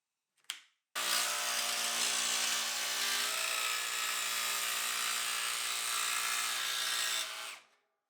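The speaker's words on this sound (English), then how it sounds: "I fitted a metal cutting blade in the jigsaw to cut the hole." Jigsaw fitted with a metal cutting blade cutting a hole, one steady loud buzzing run of about six seconds after a short blip, with no talk.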